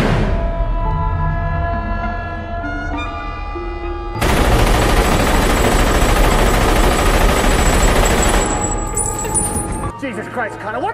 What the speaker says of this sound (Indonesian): Keadaan pun menjadi kacau balau karena Connor menembak Finn.